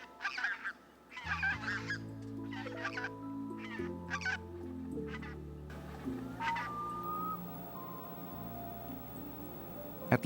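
Trumpeter swans in Denali, Alaska give repeated honking, bugle-like calls in short bursts, some near and some farther off, over a bed of low sustained music.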